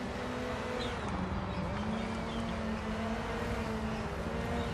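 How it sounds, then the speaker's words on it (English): Rally cars race in the DiRT 4 rallycross video game, a rival car passing on the left, heard as a steady, dense engine drone that holds for several seconds with no talk over it. "I feel like I can hear a car to my left"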